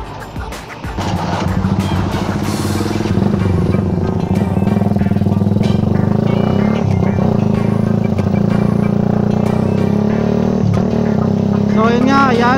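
A Suzuki R150 carbureted motorcycle with a stock engine, aftermarket pipe and CDI runs loudly and steadily at close range, its revs holding with a strong, continuous drone throughout.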